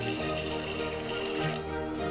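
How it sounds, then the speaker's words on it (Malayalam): Water pours steadily into a metal pressure cooker for a couple of seconds, a continuous splashing stream at close range. "നമുക്ക് ഒരു ഗ്ലാസ് വെള്ളം ഒഴിച്ചു കൊടുക്കാം."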